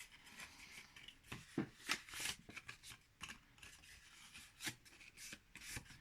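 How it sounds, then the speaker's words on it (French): Paper being creased and folded by hand for a small pink handmade gift box, giving quiet dry rubbing and crinkling strokes in irregular bursts, close and faint with no talking. "Et on marque les plis pour regarder si notre papier ne se déchire pas."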